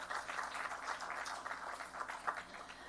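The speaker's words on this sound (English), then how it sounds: "Please, that deserves a round of applause." Faint, distant crowd applause at a groundbreaking ceremony for a Grand Palladium Hotels & Resorts expansion, a continuous soft wash of many hands clapping.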